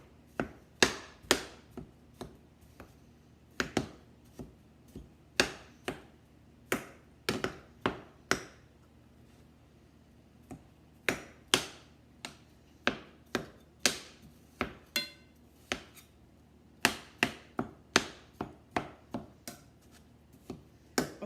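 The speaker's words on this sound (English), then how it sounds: "you want to chop the beef" A spatula chops cubed beef in a pan, sharp clacking strikes in irregular clusters of quick hits with brief pauses between, close and clear with no voices.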